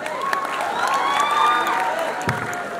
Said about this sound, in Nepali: कृपया जोरदार ताली पुनः एक पटक।